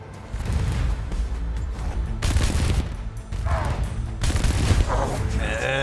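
Automatic defense cannons fire in the video game Arknights: Endfield, loud rapid bursts of mechanical gunfire in quick volleys that fill the whole stretch.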